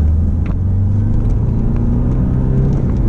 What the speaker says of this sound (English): because you revved mine, lad, I'm going to rev yours now. In second gear though